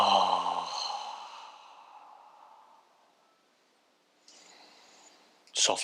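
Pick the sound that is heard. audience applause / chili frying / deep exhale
deep exhale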